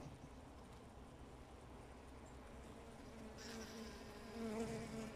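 Honeybees buzz in a steady, close drone during a hive inspection, the hum swelling slightly louder toward the end.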